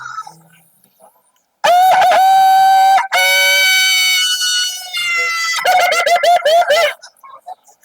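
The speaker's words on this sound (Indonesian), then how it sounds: "Terdengar suara ayam berkokok." A loud rooster crows twice in long, stretched calls, followed by a choppier crow, close and clear against near silence.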